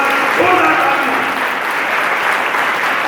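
Audience applause at a college alumni and parents meet for the economics department, a loud, steady roll of many hands clapping close by, with faint voices mixed in.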